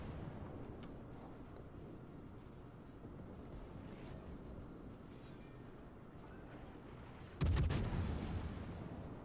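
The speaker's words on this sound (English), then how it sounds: "That wasn't a very good salvo." Battleship main-gun salvo from the Hindenburg in World of Warships, a sudden loud booming burst late in the clip after a stretch of low rumbling ambience and wind-like noise.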